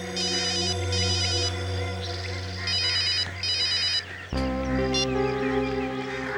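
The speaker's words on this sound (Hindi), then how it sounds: "वो दोनों मेरा फोन कॉल रिसीव क्यों नहीं कर रहे हैं" A phone ringtone plays in a repeating electronic melody over steady music, the rings coming in short bursts before the music shifts.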